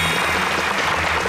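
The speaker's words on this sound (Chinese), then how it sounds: "来让我们大家一起来鼓掌，欢迎今天晚上跟我们一起长智慧的所有来宾" A television variety-show studio audience applauds to welcome the guests, a thick, even wall of clapping from many people throughout, without speech.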